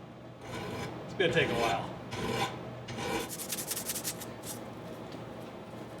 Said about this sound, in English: Now begins the process of filing all my booger welds down.